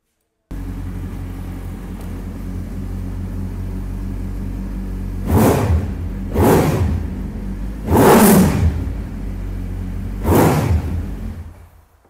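A Kawasaki Ninja Z900 superbike engine idles with a steady rumble, then revs loudly four times in separate bursts before cutting off.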